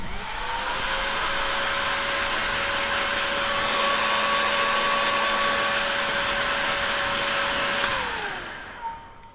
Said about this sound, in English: And then you can just take the heat gun.